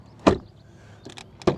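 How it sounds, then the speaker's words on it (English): Car doors on a Volkswagen Tiguan shut with two solid thumps about a second apart, close and loud, with a faint rattle in between and no talk. "Then door closing sound"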